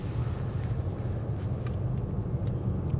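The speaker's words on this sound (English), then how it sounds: "So let's listen to the sound of the engine." A low, quiet diesel engine hum and road rumble fill the cabin of a 2017 Mercedes S350 d steadily, smooth and muted, with no voices.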